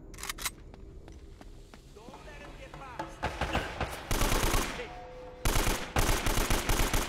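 AK rifle firing in short bursts in the video game Uncharted: Drake's Fortune, a run of sharp cracking volleys that grows louder and denser toward the end, with someone talking in between.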